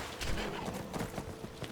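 Horse hooves in Skyrim clip-clop in a quick, uneven rhythm of soft thuds, moderately close and continuous, without talk.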